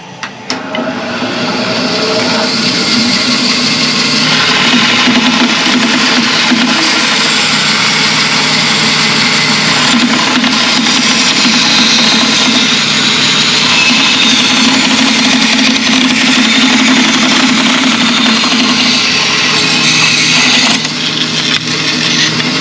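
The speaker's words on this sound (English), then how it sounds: "I've set up the bandsaw now to cut it to a 3/8 inch thickness." A bandsaw cuts a ukulele fingerboard to 3/8 inch thickness, its loud, steady motor whine and blade hiss running unbroken for over twenty seconds after a brief start.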